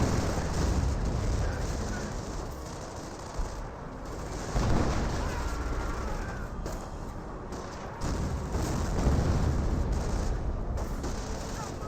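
Battle explosions and gunfire in Company of Heroes, with Wehrmacht and Stormtrooper squads fighting: a continuous clatter of rifle and machine-gun fire broken by several heavy booms, moderately loud and sustained.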